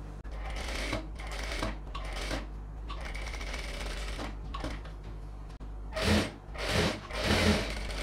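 A sewing machine stitches lining onto a silk pattu pavadai in short rapid mechanical bursts, each separated by brief pauses, close and with no talking.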